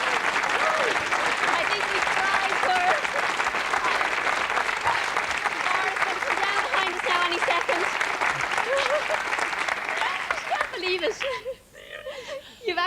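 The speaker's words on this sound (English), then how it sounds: "give her a round of applause" Studio audience on an Irish TV variety show applauds and cheers a woman who has just won a car, a loud sustained ovation with some laughter and talk over it, thinning out near the end.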